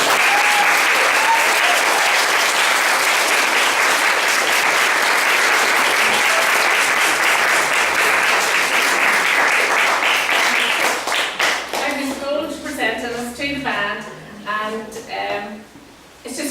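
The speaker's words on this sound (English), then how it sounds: "she deserves a massive round of applause" An audience at a civic reception for Mayobridge Band bursts into loud, sustained applause that fades out after about eleven seconds, giving way to someone speaking.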